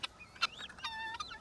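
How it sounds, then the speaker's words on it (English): Big farm birds holler close by, a couple of loud crowing, rooster-like calls with rising and falling pitch in a short outdoor burst, with no talking. "Even big birds hollering at you."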